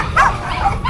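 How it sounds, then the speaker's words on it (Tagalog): A puppy at an outdoor pet market gives a few short, high yipping barks, close by and loud against a background of crowd noise. "Ay, mga aso."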